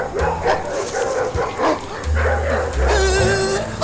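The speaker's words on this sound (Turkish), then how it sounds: "Birkaç tane köpektir o." Several dogs bark and yelp close by in a loud burst of overlapping barks, with a whimpering whine near the end over a background bed of noise.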